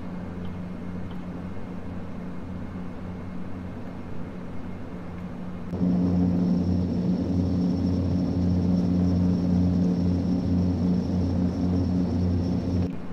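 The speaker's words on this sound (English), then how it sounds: "Loud airplane though." Constant droning engine rumble fills a Dash-8 airplane cabin on a Mildura to Melbourne flight, steady and loud, stepping up noticeably louder partway through and holding there.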